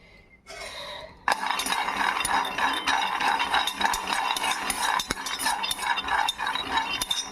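Peanuts roasting in a pan over medium heat, stirred continuously with a utensil that scrapes and clinks against the metal in quick irregular strokes after a brief quieter opening.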